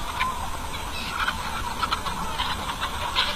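Chickens on an open farm at feeding time, a dense flock of about five thousand birds clucking and squawking continuously at close to mid range, busy overlapping calls with no talk.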